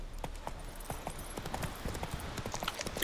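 Hoofbeats of Roach, Geralt's horse in The Witcher 3, galloping in a quick, steady clip-clop rhythm, close and prominent over a faint game ambience.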